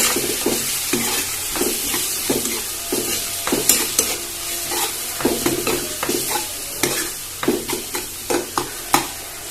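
Masala spices including coriander powder and turmeric are stirred into a sizzling frying pan for a fish curry, with repeated scraping strokes in an uneven rhythm over a constant close frying hiss.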